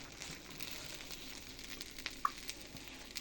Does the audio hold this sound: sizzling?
yes